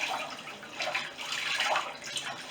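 Water sloshing and swishing around in a shallow old bathtub, a steady broad splashing wash with a few louder surges, close by and with no talk.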